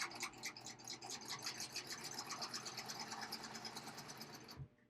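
A sewing machine stitching elastic button loops runs in a fast, even mechanical chatter at close range, then stops abruptly near the end.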